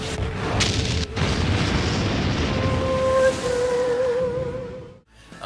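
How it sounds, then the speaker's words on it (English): A point singularity weapon from the Andromeda science fiction series blasts in a deep, rolling boom with roaring rumble and a rising whine, sustained for about five seconds before cutting off abruptly. "They're powering up a point singularity weapon."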